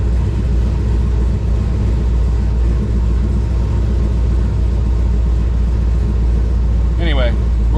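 A Camaro SS under rebuild drives along with a steady, loud, low engine rumble that barely changes. A short voice or squeak breaks in near the end.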